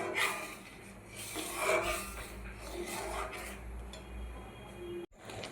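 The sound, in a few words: stirring mango and sugar in a pan on the gas stove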